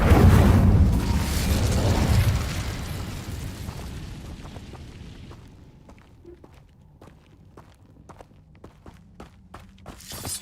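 An Incendio fire spell cast in Hogwarts Legacy sets off a loud, roaring burst that slowly dies away over several seconds, leaving faint, sparse ticking and thuds behind it.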